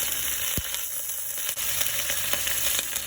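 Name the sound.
ginger paste sizzling in hot ghee with spices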